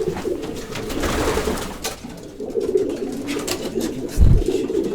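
Pigeons from a Malbork racing-pigeon loft coo in a steady low murmur, several birds overlapping continuously, with a brief louder rustle near the end.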